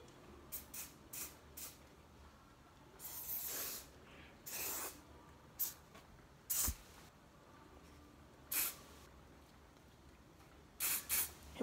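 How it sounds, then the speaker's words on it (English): A liquid spray bottle is pumped close by in an ASMR setting, giving several hissing bursts of varied length, some quick and clustered, others longer, with quiet gaps between them. "I'm gonna do a little spray, but not on the camera, so just like in here."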